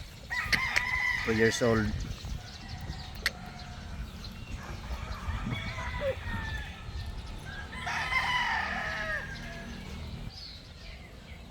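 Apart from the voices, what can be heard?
gamefowl broodcock rooster crowing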